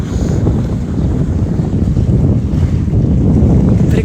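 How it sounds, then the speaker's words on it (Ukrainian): Black Sea surf and wind on Langeron beach in Odesa, a steady, loud wash of waves with gusting wind buffeting the microphone throughout, no voices. "Ну давайте ще тоді послухайте а, трошки нашого моря."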